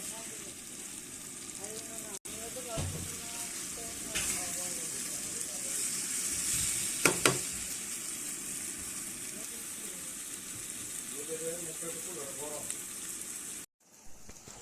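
Canned tuna frying in a little of its own oil in a village kitchen, a steady broad hiss running throughout with occasional stirring clatters, then cutting off near the end; brief voices surface over the sizzle.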